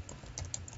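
Keys clicking on a computer keyboard while a name is typed into a Microsoft database dialog, a short burst of light taps at close range with no talk.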